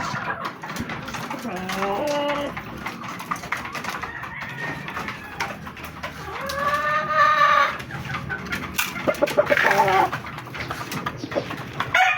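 White Kelso gamefowl roosters and hens at daily feeding in a backyard crow in drawn-out calls and cluck in a busy, steady chorus. A voice talks intermittently over them.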